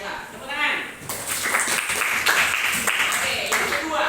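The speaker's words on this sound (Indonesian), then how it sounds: "Tepuk tangan." Students in a classroom break into scattered applause that builds and continues steadily, mixed with chatter and voices throughout.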